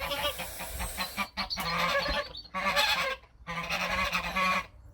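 Several farm geese guarding their nest honk loudly and close by in harsh repeated bursts, with short pauses between calls.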